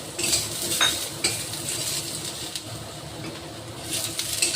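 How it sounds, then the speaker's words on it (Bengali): A utensil scrapes and stirs pumpkin with green chillies in a pan with soft sizzling underneath, several close clinks and scrapes over a steady frying hiss. "এবার এটাকে ভালো করে নাড়ব"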